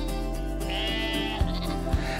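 One wavering black sheep bleat sounds clearly over light background music with soft thumping beats.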